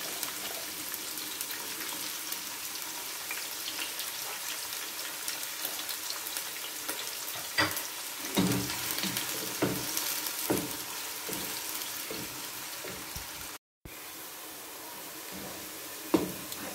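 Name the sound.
chopped onions frying in oil in a pan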